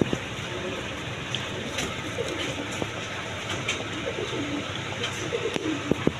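A pair of pet pigeons coo softly nearby over a constant background rumble and scattered small clicks, with low, repeated throaty calls at an irregular pace.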